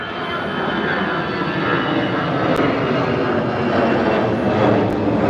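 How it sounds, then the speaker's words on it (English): American Airlines jet passing overhead at Chicago O'Hare Airport, a loud continuous engine roar and rush that swells slightly and holds steady throughout, with no talking. "here comes another flight right overhead. Another American flight."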